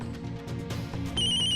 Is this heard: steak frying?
no